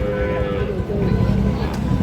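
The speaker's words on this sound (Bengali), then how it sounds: "আচ্ছা দর্শক আমরা যে এখানেও 2টি গরু দেখতেছি" Sahiwal cattle at a busy livestock market, one moo rising close by over a steady murmur of crowd noise and background chatter.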